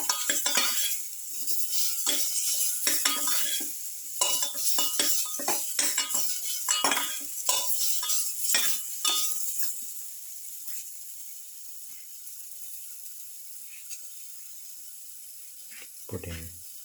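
Ingredients for pepper potato pumpkin pilaf are sautéed in a pan, with a rapid run of clinking, scraping stirs for about ten seconds that then falls to a faint quiet hiss, and a brief thud near the end.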